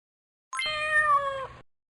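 One clear, drawn-out kitten meow from a puzzle game rings out alone against silence, lasting about a second.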